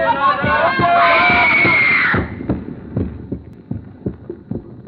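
Dramatized crowd voices in a radio suspense drama swell into a woman's loud scream, then break off abruptly, leaving a steady pulsing heartbeat-like thump repeating alone in the quiet.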